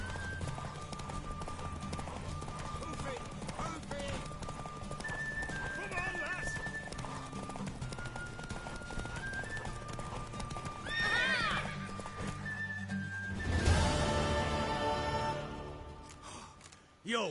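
A horse in The Witcher 3 clip-clops at a run and whinnies repeatedly, hooves drumming steadily beneath game music and talking voices, with a loud burst of neighing near the end.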